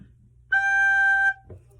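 A recorder plays a single held G, a clear steady note lasting under a second after a quiet pause, then a faint voice begins as it stops.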